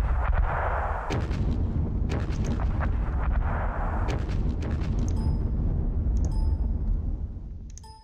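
Mortar fire in the wartime strategy game Panzer Battles at Kursk: repeated heavy booming blasts with rumbling aftermath, dense and loud throughout, with sharp bursts near one and four seconds before fading at the end.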